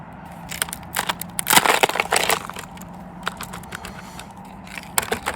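Ice cubes clatter and crack into a highball glass as a drink is built over ice, with a burst of clinking in the middle and scattered smaller knocks before and after, close and fairly loud.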